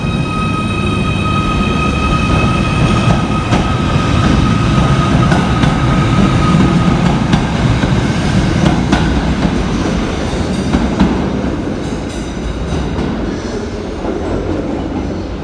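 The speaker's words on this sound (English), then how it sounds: "Departing in the opposite direction is 77722 working the 1247 Merseyrail electric service" A Merseyrail Class 777 electric train, unit 77722, departs a station on the 12:47 service from Ellesmere Port to Liverpool Central, loud and close with rising motor whine, rolling wheel rumble and rhythmic clicks that slowly fade as it pulls away.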